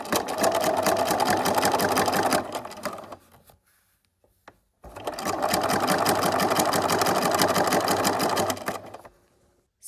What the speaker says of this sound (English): Now sew new side seams 1 centimeter from the edge.